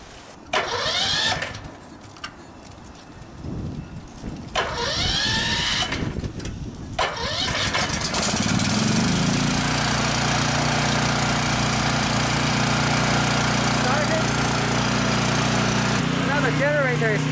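A tri-fuel 8000-watt generator running on natural gas cranks with several sharp pull-start attempts, then catches and settles into a steady, loud engine drone that holds to the end, with a voice speaking during the early tries.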